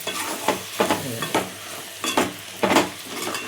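Brinjal and potato curry with tomatoes being stirred and pressed in a hot pan; about seven distinct scraping stir strokes at a steady rhythm over a continuous soft sizzle, close and clear.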